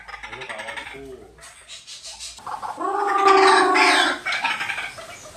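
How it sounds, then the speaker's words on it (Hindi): Hungry wild birds roaming free in a house call loudly in bursts, harsh gargling, crowing cries that swell and fade close by, with a louder sustained call near the middle. "वे घर में खुले घूमते और भूख लगने पर जोर जोर से आवाज लगाकर वैंग को बुलाते।"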